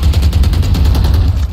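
Rapid, continuous video-game gunfire fills the short stretch with a steady rattle of shots, loud and dense with no pause.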